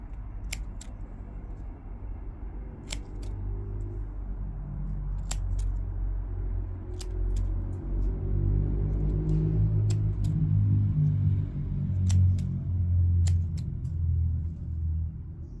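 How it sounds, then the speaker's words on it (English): Scissors snip the tops off sweet pea plants outdoors, giving scattered sharp clicks, some in quick pairs, over a low, steady background rumble. "I've trimmed the tops of the sweet peas"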